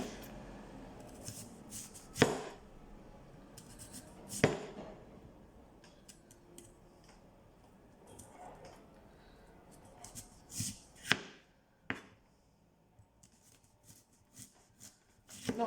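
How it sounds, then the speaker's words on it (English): A knife slices through half an onion on a cutting board while cooking pad Thai, giving a series of scattered crisp cuts and taps spaced across the clip, with quiet background noise in between. "So this says half an onion, and we're doing this in slices."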